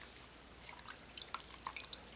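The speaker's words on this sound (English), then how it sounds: "Now I'm going to dip this in my water just to get off some of the excess paint." A paint brush dipped into a water cup to rinse off excess paint while painting a cat mask: faint, sparse little drips and tinkling splashes in a quiet room, clustered in the second half.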